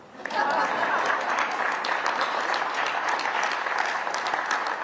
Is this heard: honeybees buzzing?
no